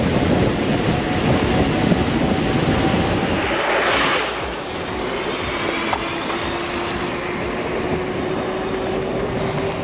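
A Dualtron X Limited electric scooter accelerates hard on a ride, its motor whine rising steadily in pitch over a continuous rush of wind and road noise.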